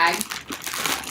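A plastic bag holding enamel pins crinkles and rustles briefly as it is handled close by, with a person talking over the sound.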